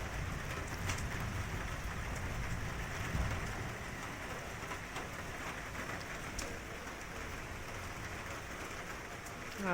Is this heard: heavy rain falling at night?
yes